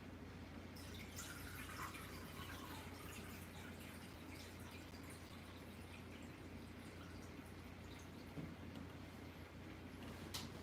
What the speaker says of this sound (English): Spilled water all over the place.